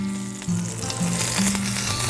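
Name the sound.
meatballs frying in a pan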